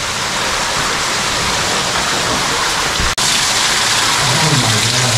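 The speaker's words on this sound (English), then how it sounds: "All the water is coming down here." Water rushes and cascades down inside an underground river cave, a dense, loud, unbroken roar filling the whole stretch with only a momentary dip.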